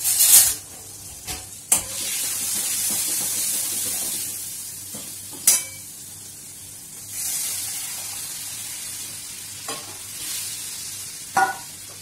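Dal goes into sambar masala in a hot pan with a loud sizzle that settles into a steady hiss, broken by sharp stirring scrapes and clinks, no voices.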